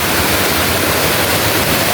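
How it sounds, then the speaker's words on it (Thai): Sap Sa Kaeo waterfall in Thailand, with water pouring in a loud, dense and continuous roar close by, and no voices. "เดิน ลงมาถึง น้ำตก"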